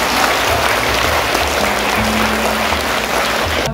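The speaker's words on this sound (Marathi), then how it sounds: "जोरदार टाळ्या याच्यासाठी देखील." Audience applause at a school prize ceremony in Nashik, steady dense clapping filling the room throughout, loud and continuous with some mixed crowd noise underneath.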